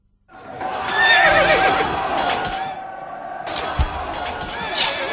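Horses neigh loudly in a tense historical battlefield setting, a long shrill whinny followed by further neighs and faint hoof thuds, with a brief gap partway through.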